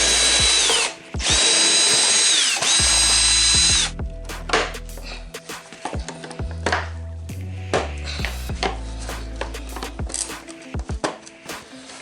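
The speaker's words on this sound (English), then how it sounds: "I'm gonna go ahead and remove these 3 screws right there" A power driver removes screws from the two-part fender of a Can-Am Ryker motorcycle, whirring in a loud close burst of several seconds, then shorter spurts mixed with clicks, rattles and handling of parts.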